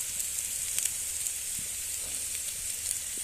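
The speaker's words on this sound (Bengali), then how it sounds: "ওই তেলের মধ্যে দিয়ে দেব পেঁয়াজ কুচি রসুন কুচি আদা কুচি হলুদ লঙ্কার গুঁড়ো" Chopped onion, garlic and ginger fry with turmeric and chilli powder in hot oil, giving a steady close sizzle with small crackles and stirring clicks throughout.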